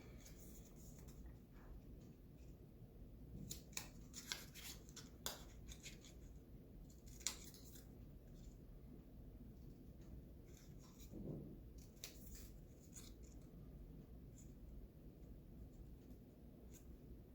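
Scissors cut a paper star for a simple Christmas tree ornament craft, giving soft, close snips and paper rustles in an uneven rhythm with short pauses, faint and alone in a quiet room.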